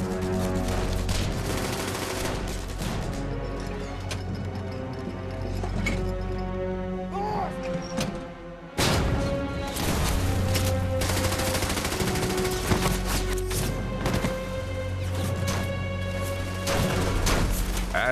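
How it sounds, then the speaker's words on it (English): Battlefield gunfire in a WWII Normandy fight against German positions: dense, continuous bursts of machine-gun and rifle fire with heavy booming impacts, a brief lull near the middle before the barrage resumes loudly, layered under a tonal music-like bed. "The Germans open up with mortar fire, machine gun fire, sniper fire"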